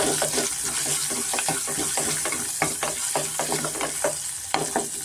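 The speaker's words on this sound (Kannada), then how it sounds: "ಶುಂಠಿ ಗೋಡಂಬಿ ಇಷ್ಟನ್ನು ನಾವು ಸ್ವಲ್ಪ ಫ್ರೈ ಮಾಡ್ಕೊಳ್ಳೋಣ" Ginger and cashews fry in a pan over a medium flame, a constant close sizzle with frequent scraping stirs and light clatter, a faint water-like hiss running underneath.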